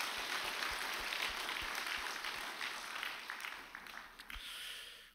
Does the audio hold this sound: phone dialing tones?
no